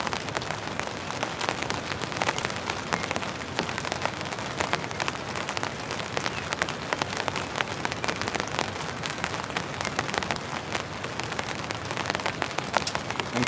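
Steady light rain drizzles down at a misty mountain campsite, a continuous soft patter of drops with no talk.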